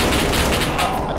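Rapid automatic turret fire in an SCP video game, a loud, close burst of repeated shots lasting about a second with little else audible.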